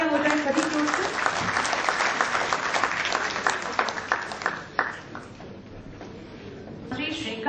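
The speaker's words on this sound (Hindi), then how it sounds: "दोस्तों जोरदार तालियां हो जाए सभी की ओर से।" At an awards ceremony evening, an audience claps loudly at first with individual sharp claps audible, then the applause thins and fades while a voice begins speaking near the end.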